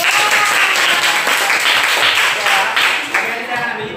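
Loud, close applause from a classroom group after medal winners are named, dense clapping with uneven surges that thins slightly toward the end.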